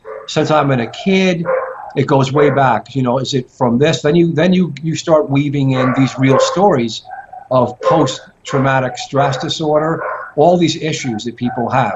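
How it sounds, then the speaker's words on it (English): Poodles bark and yip in the background behind continuous close male speech, the dog sounds partly masked by the talking throughout. "I'm sorry about the dogs in the back."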